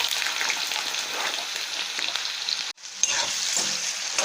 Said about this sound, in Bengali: আলুগুলো ভেজে নেব নুন হলুদ দিয়ে